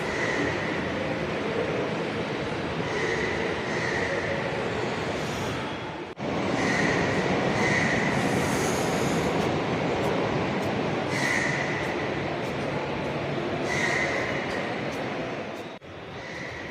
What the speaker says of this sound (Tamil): நமக்காக விடப்பட்ட அந்த ட்ரெயின் இப்போ ட்ரெயின் ஏறி நம்ம ஜேர்னியை கண்டினியூ பண்ணுவோம்.